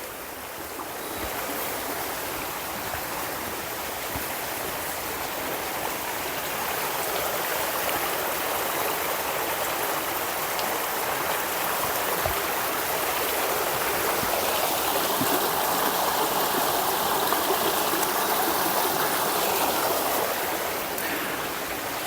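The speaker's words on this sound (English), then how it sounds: "the sound of water again is really nice and beautiful" Steady rushing of a flowing stream in Pisgah National Forest, continuous and fairly close, with a brighter babbling layer swelling slightly toward the end; no voices.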